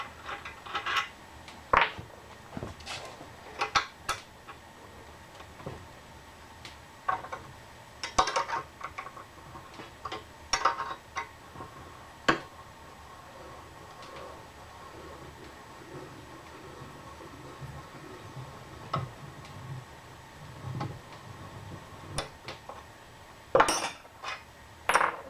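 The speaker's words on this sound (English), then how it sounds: "let's take the bolts out" Bolts come out of a belt sander platen in a workshop: scattered metallic clinks, taps and clatters of tools and hardware, sparse and irregular at close range over a quiet background, with no talking.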